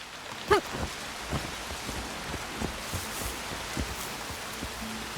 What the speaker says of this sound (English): Not in this torrential downpour.